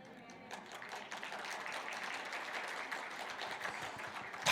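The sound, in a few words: church congregation applauding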